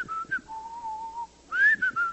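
Clear, close whistling carries a short melodic phrase from a played song, with a sustained middle note between brief higher ones, over a faint quiet background.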